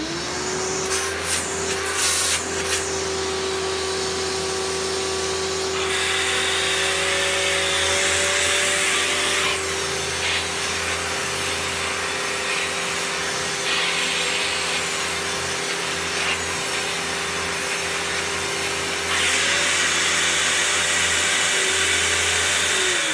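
A 2000 Samsung Wide Clean vacuum cleaner motor runs continuously with a loud, steady whine, its airflow shifting in tone as suction changes now and then, and no voices.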